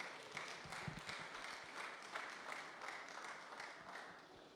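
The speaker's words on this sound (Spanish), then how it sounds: "Les despedimos con un fortísimo aplauso" A church congregation at a Sunday service claps as the children leave, a soft, distant, continuous patter of many hands that holds steady and tapers slightly at the end.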